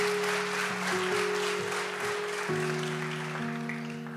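A church congregation applauds during a worship service, a steady wash of clapping that swells and fades gently over sustained keyboard or organ chords playing underneath.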